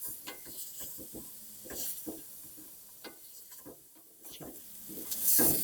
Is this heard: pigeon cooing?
no